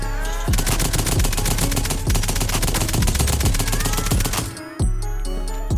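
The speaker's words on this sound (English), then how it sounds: "I really like the original LMG sound, so this one was all about just juicing it up" Rapid, sustained automatic light machine gun fire in the video game Krunker, punchy low thumps, loud and close, briefly cutting out near the end before resuming.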